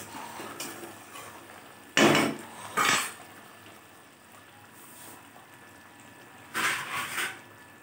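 A metal lid clanks onto a cooking pot of tilapia fish curry with potatoes, giving a few sharp close knocks and a brief rattle over a quiet kitchen background.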